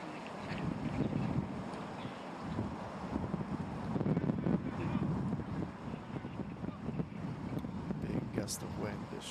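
Wind gusting across a golf course during the final round of a women's professional tournament in Korea, a steady broadband rush that swells and eases over the whole stretch, with a commentator talking over it.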